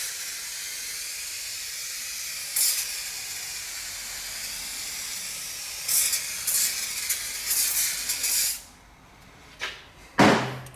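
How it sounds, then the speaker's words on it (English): Aerosol adhesive spray is applied to a spring steel surface in several hissing bursts, loud and close, separated by short pauses, followed by a couple of sharp knocks at the end. "Shake just a little bit to get that aerosol going."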